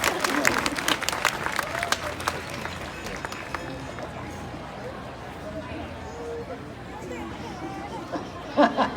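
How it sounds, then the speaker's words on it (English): An outdoor crowd at a Renaissance festival show gives a quick round of applause, with crisp claps over the first few seconds fading into general chatter and crowd babble. "Let's have a quick round of applause for our professional cat toy"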